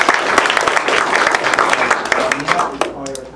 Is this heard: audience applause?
yes